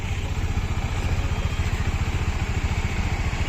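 A Bajaj Dominar motorcycle with a body-rattle problem runs steadily nearby, its engine giving a fast, even thrumming pulse with a metallic clatter over it and no voices.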